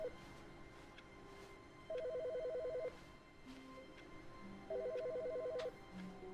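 Telephone ringing inside The Stanley Parable: Ultra Deluxe, two distinct ring bursts about three seconds apart over a low game ambience, fairly quiet and with no talk.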